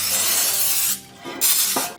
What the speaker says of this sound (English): I give it a quick spray with some cooking spray.